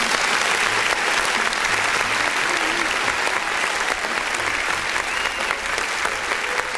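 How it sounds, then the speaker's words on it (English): Loud, continuous clapping fills the whole stretch on a music review show, a dense steady wash of claps with faint background sound beneath. "Let me go to clap real quick"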